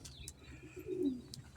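A pigeon perched on someone's shoulder gives a soft, low coo, close but faint, amid quiet outdoor ambience with a few faint high chirps.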